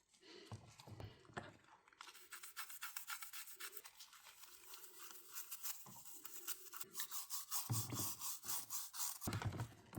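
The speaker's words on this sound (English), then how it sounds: "just a soft bristle toothbrush" A soft-bristle toothbrush scrubs Game Boy shell and button parts in warm soapy water, giving steady rhythmic wet brushing strokes close up that grow busier and louder toward the end.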